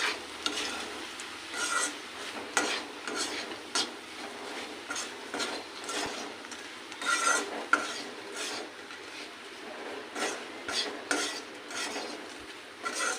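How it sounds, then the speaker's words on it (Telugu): Chili powder and coconut powder being stirred together in a pan, a steady scraping and clinking of a spoon against metal with faint sizzling, close and continuous, no talk. "ఇప్పుడు ఇవి రెండు బాగా కలుపుకోవాలి."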